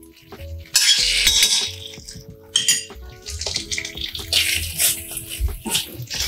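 Potatoes and mustard are stirred in a pan, giving a close run of metallic scrapes, clinks and knocks of a utensil against cookware in irregular bursts.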